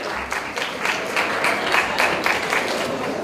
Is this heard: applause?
yes